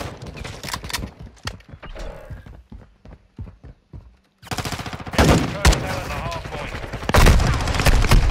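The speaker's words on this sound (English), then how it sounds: "I was shooting through the window because I seen a guy in there" Rapid gunfire bursts in Call of Duty Modern Warfare 2 ranked play, loud and close, starting as scattered sharp shots and swelling into dense sustained firing, with game sounds and chatter mixed in.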